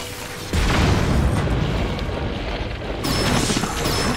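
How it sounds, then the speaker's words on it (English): In Zelda: Tears of the Kingdom, a cannon fires at a boss's weak spot, a loud booming blast that swells into a dense rumbling roar of explosions and crashing debris, with a second surge toward the end. "Use the cannon, hit the weak spot"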